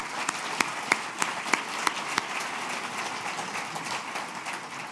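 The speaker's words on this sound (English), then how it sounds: "can we just have a round of applause?" At a forum gathering, a moderate crowd gives a round of applause: an even patter of clapping with a series of sharp, regularly spaced louder claps near the start, steady and unaccompanied by speech.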